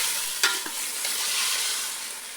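Degi-style chicken korma stirred in hot ghee in a hot pot gives a steady, close sizzle with a couple of brief scraping clicks from the spoon early on, and no voices.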